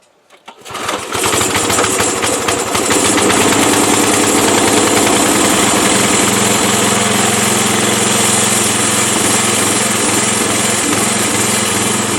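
An old lawn vacuum's small gasoline engine, converted into a portable power unit, sputters briefly after a quiet moment, catches within a second and then runs loud and steady at close range with a rough mechanical rattle, no talk.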